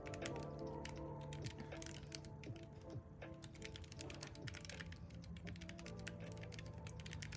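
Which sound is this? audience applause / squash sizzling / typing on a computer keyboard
typing on a computer keyboard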